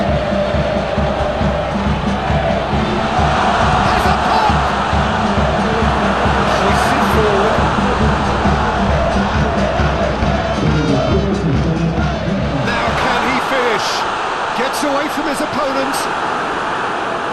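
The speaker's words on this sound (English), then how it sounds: "the crowd clearly like what they just saw" A football stadium crowd roars and cheers continuously after a defensive play, with a dense, loud wall of voices under commentary, then thins to quieter murmuring near the end.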